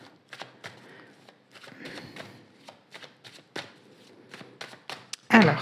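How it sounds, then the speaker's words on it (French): A deck of tarot cards is shuffled by hand in a string of soft, quick riffles and slaps, ending in a sharper cut and tap up close. A voice talks quietly beneath it in stretches. "Alors, donc je vais mélanger un peu. Je vais faire la coupe et je vais prendre 3 cartes."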